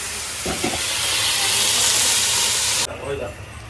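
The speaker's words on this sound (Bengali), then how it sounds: "উপোস ভাজা আলু দিয়ে গরম মশলাটা দিয়ে তাই একটু জল দিয়ে নিলাম" Water poured into a hot pan of fried potatoes with garam masala gives a loud, steady steam hiss lasting about three seconds, then cuts off abruptly, leaving quieter background noise.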